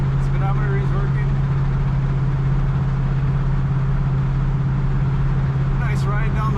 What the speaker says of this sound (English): Nice ride down the road in this car.